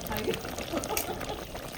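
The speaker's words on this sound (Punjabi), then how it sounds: "ਹੁਣ ਆਪਾਂ ਫਿਰ ਪਾਣੀ ਧਰ ਦੇ ਲਗੇ ਹਾਂ" Water pours into a pot of Punjabi dhaba-style mutton curry as it cooks, a steady close trickling splash lasting about two seconds, with a faint voice in the background.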